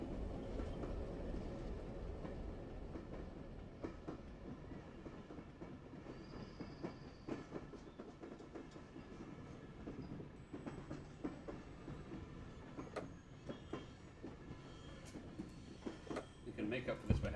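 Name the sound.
train running in Zompiercer video game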